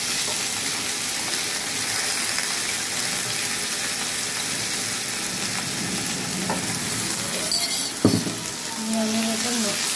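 Chicken pieces sizzle and fry steadily in a pan with vegetables for a healthy chicken curry, a loud continuous hiss with a brief stir or clatter near the end.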